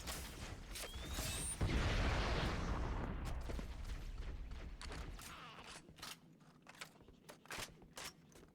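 A grenade goes off in the video game Halo: one heavy, close boom with a broad low rumble that fades over a few seconds, followed by scattered sharp clicks and bursts.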